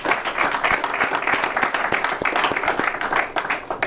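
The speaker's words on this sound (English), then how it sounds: "Let's give them a round of applause for joining us." Applause from a press conference audience, dense steady clapping from many hands for about four seconds, with a faint murmur of voices underneath.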